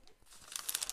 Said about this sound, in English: This is probably noise, isn't it? This is pattern paper.